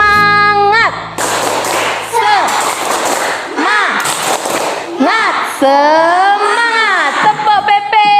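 A classroom of students claps a rhythmic 'tepuk semangat' chant, sharp bursts of close, loud claps in short patterned groups alternating with chanted voices and a teacher's speech.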